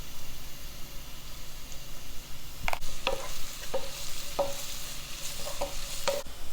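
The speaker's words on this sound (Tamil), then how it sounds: "பச்சை வாசனை போகிற வரைக்கும் ஆனியன் நல்லா வதக்குங்க." Onion sautés in oil in a pan for beetroot rice, a steady sizzle broken by a few scraping stirs of the spoon against the pan, close and without speech.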